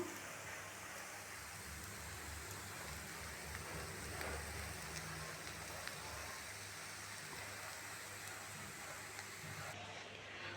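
Steady rain falls outside, a dense even hiss of drops on surfaces, continuous and moderately loud for the whole stretch with no voices.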